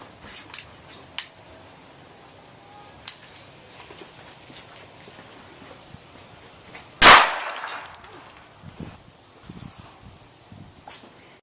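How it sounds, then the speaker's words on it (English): A small airsoft explosion set off inside an egg packed with 15 BBs gives one sharp, loud bang in the middle, preceded by faint clicks and followed by quiet rustling. "This is the smallest explosion we have, acting as our control experiment."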